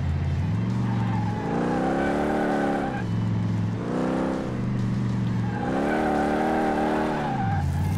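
Car tires skid and squeal in the racing game Car Mechanic Simulator 2018, from a 1969 Ford Mustang Boss 302, with loud sustained screeches that rise and fall over a revving engine and no voices.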